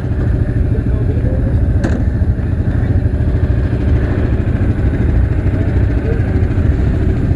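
An ATV engine runs steadily on a rural outing in Lunenburg County, Nova Scotia, a loud, close, continuous rumbling drone with one brief clatter partway through.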